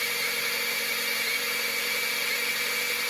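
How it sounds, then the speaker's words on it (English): Electric drill spinning the oil pump of a 5.9L (360) Dodge Magnum engine to prime and check oil pressure: a steady, high-pitched continuous whine with a constant hum, close and loud, running without talk. "now got my drill connected, and you'll go clockwise to check your oil pressure"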